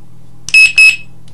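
A 1Byone driveway patrol wireless alarm sounds two sharp, loud electronic beeps in quick succession, close by, over a faint low hum.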